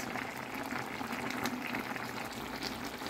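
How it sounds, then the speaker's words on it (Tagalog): Chicken pochero broth with cabbage boiling in a pot, a steady close bubbling and gurgling that continues evenly throughout at low volume, with no talk. "Ngayon, ilalagay natin ang ating cabbage. Papakuluan natin ulit for 3 minutes."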